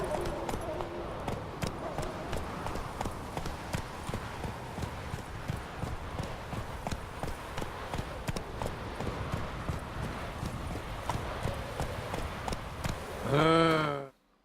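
Horse hooves clip-clop at a steady gallop in The Witcher 3, a dense rhythmic patter running continuously under game ambience, ending with a brief louder neigh-like burst near the close.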